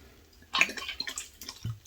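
Water splashes and drips as it is poured into a raw cracker mixture in a home kitchen, with a short burst of liquid followed by smaller patters, close and quiet.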